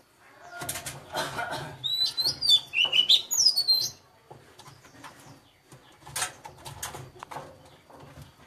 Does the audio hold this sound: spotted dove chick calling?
yes